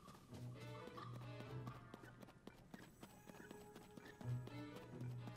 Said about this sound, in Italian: Mi sa che quelli sono cavalli normali.